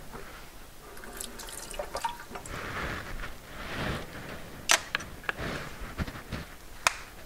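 A plastic measuring container for hydroponic nutrients is rinsed under running water, with splashing, dripping and a few sharp taps and clacks nearby, irregular and moderately loud.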